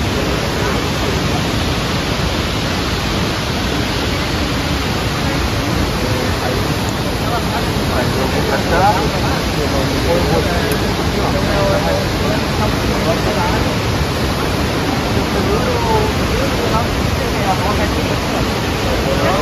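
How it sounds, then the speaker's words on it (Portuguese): A loud, steady roar of the Salto São Francisco waterfall in southern Brazil fills the whole stretch, a constant rushing wash of water with no breaks or pauses. "Gente, essa cachoeira aqui é linda demais"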